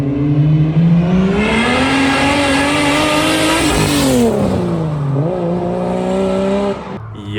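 A car engine revs hard and close, its rising and falling harmonic howl held for several seconds, with a crisp, smooth wastegate sound; the pitch sweeps up, dips, climbs again, then drops off near the end.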